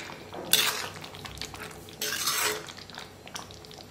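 A spoon scrapes and clatters against a pan as mushroom peas curry is stirred. Two louder bursts of metallic mixing stand out over a low background, close by and without talk.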